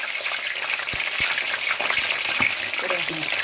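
Chicken pieces fry in boiling ghee with a dense, continuous sizzle and crackle, up close, with scattered pops and stirring sounds throughout.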